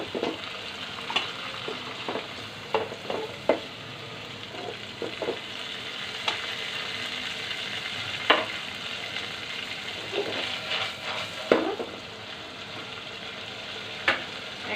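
Rohu fish curry sizzles and fries in a pan while being stirred with potato, pointed gourd and long beans. A steady frying hiss runs under sharp, intermittent scrapes and clinks from stirring.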